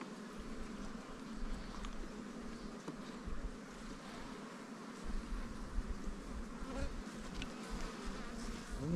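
Honey bees swarm at an opened hive on a mountain pasture, a steady, dense buzzing hum that fills the space continuously, close and moderately loud with no voices over it.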